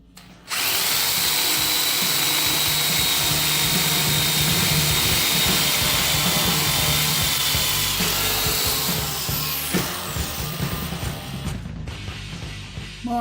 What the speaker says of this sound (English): Not easy drilling tubes.